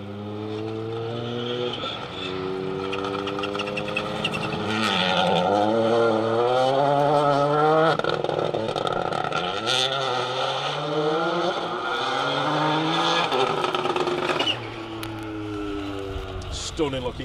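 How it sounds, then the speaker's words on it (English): Brand-new Toyota Yaris GR Rally 2 car on a gravel rally stage, engine note climbing and dropping through repeated upshifts as it enters a bowl, loud and close, with commentary talking over it. "This is the sight and sound of the brand new Toyota Yaris GR Rally 2 entering the bowl. Have a listen to this for an engine note."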